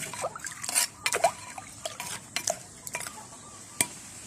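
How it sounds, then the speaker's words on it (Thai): Pounded field crab juice strained into a cooking pot, with a series of light clinks, scrapes and soft liquid splashes from a strainer and utensil knocking against the pot, close and fairly quiet. "น้ำปูที่เราได้ตำไว้เนาะ มากรองเลยจ้ะ มาใส่เลยทีนี้"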